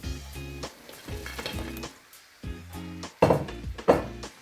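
Pieces of fried chicken hit a pan of sautéed pepper and onion for Sri Lankan devilled chicken, sizzling loudly with bursts of frying, stirring and utensil scrapes against the pan.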